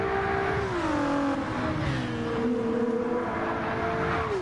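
Ford and Porsche race cars in Gran Turismo 7's GTE class at High Speed Ring, engines droning at high revs with pitch falling through gear changes, steady and continuous under the game's racing soundscape.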